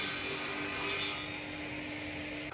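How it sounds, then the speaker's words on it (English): A hand saw cuts the tenon shoulders on timber for a reclaimed-materials shepherd's hut steering axle frame, a steady close rasping stroke that eases slightly partway through, with no talking. "just cut both sides of the shoulders of them tenon"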